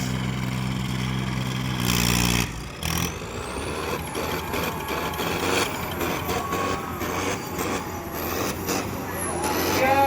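Tractor engines roar at a tractor pull between a New Holland and a Sonalika RX, a loud continuous heavy drone with a brief hiss and revving pitch sweeps, while voices shout over it.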